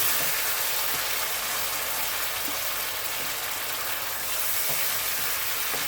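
Madras curry sizzling loudly and continuously in a pan as base gravy is stirred in, a dense, close hiss with faint stirring knocks underneath.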